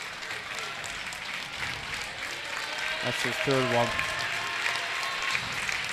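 Applause from the crowd at a girls high school basketball sectional semifinal between Winamac and Pioneer, a broad steady clapping wash that swells slightly toward the end, with a commentator talking over it.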